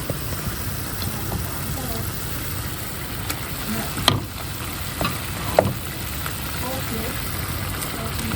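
Steady loud sizzling of hilsa fish coated in mustard paste, mustard oil, turmeric and chili frying in a pot, with occasional stirring clinks and a few sharp knocks over the continuous hiss.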